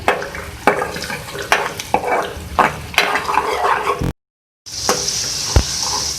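Ginger garlic paste stirred and fried in a karahi for chicken koyla karahi: repeated spoon scrapes and knocks against the pan over a sizzle, a short gap, then a louder hiss with one more knock.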